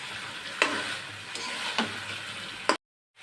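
Sarpunti fish and eggplant stir-fried in mustard paste in a pan, a soft steady sizzle broken by a few sharp spatula scrapes and knocks, close up, then abrupt silence.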